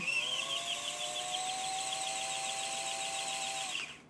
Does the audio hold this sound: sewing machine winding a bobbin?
yes